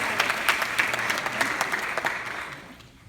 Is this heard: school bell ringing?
no